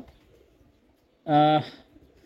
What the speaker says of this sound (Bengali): এখন একটা নর কবুতর দেখাবো